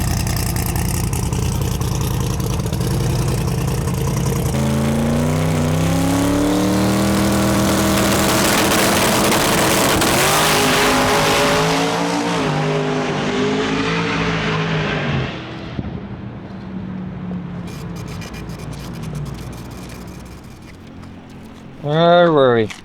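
A drag racing wagon makes a full pass on a strip, its engine roaring loudly and rising in pitch through the gears before fading into the distance, with voices talking over it.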